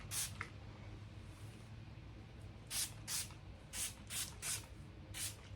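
A spray bottle of hair product for blowing out hair extensions gives a single early spritz, then a run of about six short, close hissing bursts in quick succession, with no talk.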